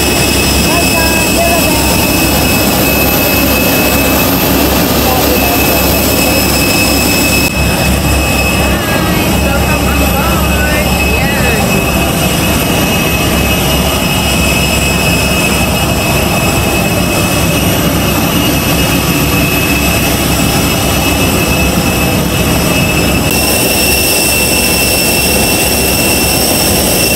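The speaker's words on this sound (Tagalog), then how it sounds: "on board na kami, ready to fly on air." Airplane jet engines heard from on board before takeoff at Abu Dhabi International Airport, a loud continuous roar and whine filling the whole stretch, with people talking faintly in the cabin.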